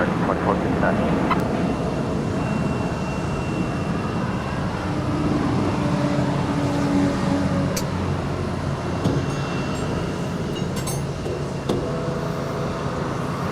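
A Delta Connection Embraer 175 jet crossing runway 25 right at Los Angeles International Airport, a continuous broad roar at a distance with voices talking faintly over it.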